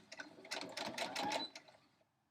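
A sewing machine stitches quilt pieces at a 1/4 inch seam, a quiet rapid mechanical whir of needle strokes that runs for about a second and a half, then slows and stops.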